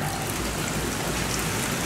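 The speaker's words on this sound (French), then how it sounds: "Malheureusement, grosse pluie" Heavy rain pours steadily and loudly, a dense unbroken hiss of drops hitting surfaces with no pauses and no voices.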